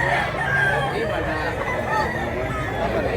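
Capon chickens for sale at a market in Mantalungon, Cebu, clucking and crowing in a dense, busy din under steady crowd chatter and nearby voices.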